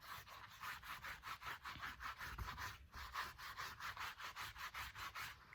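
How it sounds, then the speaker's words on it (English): A cloth rubs excess Tandy Eco-Flo Professional Waterstain off a leather surface, making a steady rhythmic series of close, dry swishing strokes, about two per second, alone and with no talking. "Take my cloth, rub off the extra."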